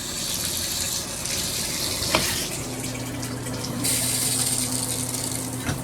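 A name-brand Speakman shower head runs in a hotel room at a Residence Inn in Indianapolis Fishers, with a steady loud hiss of falling water that shifts in tone partway through as the flow changes. Close and continuous, with no talking.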